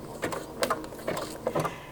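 A sewing machine stitching a blanket stitch along fabric runs in four short, evenly spaced bursts of mechanical whirring and clicking, close and fairly quiet, with no talk.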